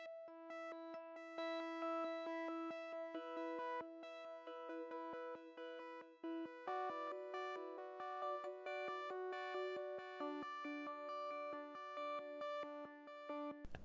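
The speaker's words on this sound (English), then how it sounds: "Next, I have a sequence synth." Bright synth tones step through shifting, random-seeming notes in a steady sequence, sustained and layered, with no voices.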